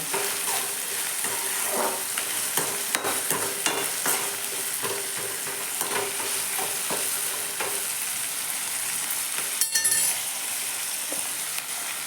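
Masala sizzles steadily in hot oil while a spoon stirs it, scraping and tapping the pan up close, with no talking.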